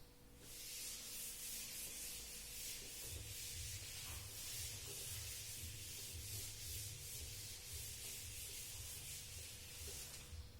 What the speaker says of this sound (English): now I will rub it out.